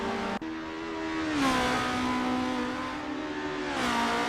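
Race car engines in Assetto Corsa multiplayer racing at the Bridgehampton circuit, a sharp gear shift followed by a steady climbing, whining rev that dips and rises again, fairly faint and without voices.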